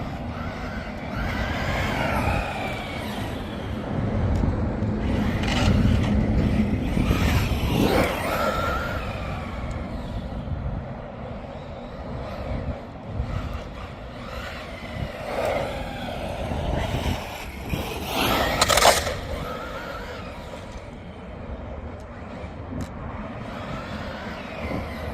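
An Arrma Big Rock 4x4 BLX 223S brushless RC truck runs continuously, its electric motor whining and rising in pitch during a speed run, with bursts of acceleration and gravelly tire noise, loud and close throughout.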